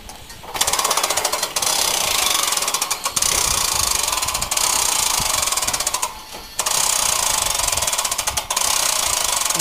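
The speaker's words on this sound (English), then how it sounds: "it's just a matter of winding the winch up" A hand winch on a pontoon boat trailer winds up its cable with a loud, continuous ratcheting clatter, broken by a couple of brief pauses between cranks.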